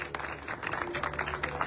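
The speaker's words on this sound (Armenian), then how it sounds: "բարձր ծափահարենք" Applause from a crowd at a prize-draw event in Yeghvard, a steady wash of clapping held at moderate loudness for the whole span, slightly distant.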